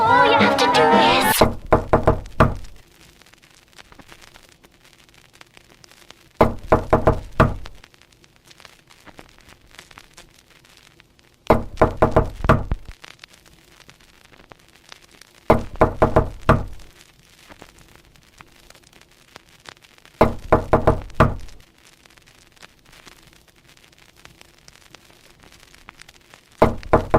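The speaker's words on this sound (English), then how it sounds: "All you have to do is knock." Knocking on a door in an audio drama, several short bursts of hard knocks spaced at regular intervals against a quiet, dark background.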